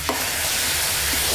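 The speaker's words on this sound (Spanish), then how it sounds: "Dejaremos sofreír un poquito más para que se haga la cebolla y el ajo" Tomato fries with onion and garlic in a pan for a lobster and langoustine fideuà, a loud, continuous close sizzle with a brief stir near the start.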